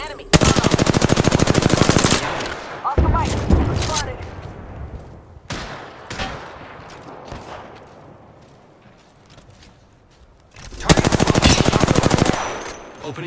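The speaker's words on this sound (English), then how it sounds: "Opening fire on the enemy." Alternator gun firing disruptor rounds in a video game, two long rapid automatic bursts at the start and end, loud and close, with scattered shots and impacts between them.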